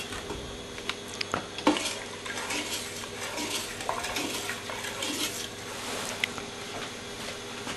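A spoon scrapes and clinks around inside a home brew pot amid watery sloshing, with occasional louder knocks against the metal.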